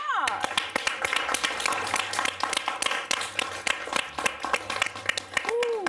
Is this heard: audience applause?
yes